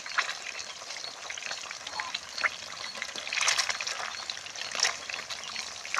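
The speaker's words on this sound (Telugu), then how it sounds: "చేప అయితే బాగా ఏగాలి, అప్పుడే పీస్ అన్నది ఉడుకుతుంది." Fish pieces for Andhra-style fish pickle sizzle and crackle steadily in hot oil in a pan, with brighter bursts of spattering near the middle and toward the end.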